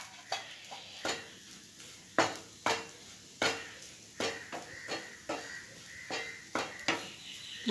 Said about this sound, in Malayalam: അതൊന്ന് ഇളക്കാം എല്ലാം കൂടി.